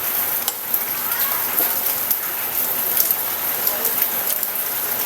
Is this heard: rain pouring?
yes